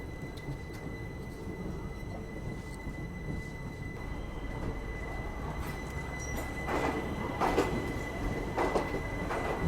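The Coimbatore Rajkot express train stands at a station, its low steady rumble and hum carrying a thin tonal whine. Faint clanks and brief metallic squeals rise toward the end, and no one speaks.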